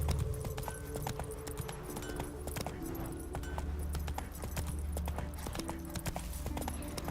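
Roach, the horse in The Witcher 3 video game, gallops with a steady clip-clop of hooves over a constant low rumble, loud and close for the whole stretch.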